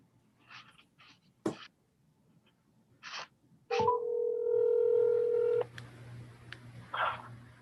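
A phone dials out to a caller during a city council webinar: several short touch-tone beeps, then a steady dial tone of about two seconds, then more tones and faint clicks in a quiet room.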